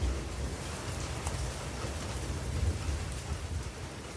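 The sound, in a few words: rain storm with thunder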